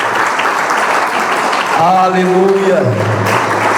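A church congregation claps steadily through an evangelical sermon on Romans. A preacher's voice rises over the applause partway through.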